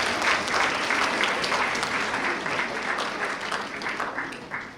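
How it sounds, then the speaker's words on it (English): Steady applause from an audience at a middle school awards ceremony, a dense even patter of clapping that holds for several seconds and slowly tapers, with no talk over it. "if we can give them a big round of applause for coming out here today"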